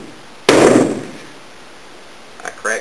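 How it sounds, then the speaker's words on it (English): A claw hammer strikes a tough 7-ounce fabric boat skin finished with a coating, giving one loud, sharp blow followed by a fading ring, then a couple of faint knocks near the end. "Let's start with a claw hammer."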